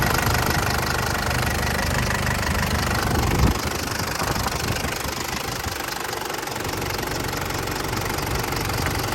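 Isuzu D-Max four-door pickup engine idling in a steady, continuous mechanical drone with a dry knocking character, close and fairly loud throughout, with no talking.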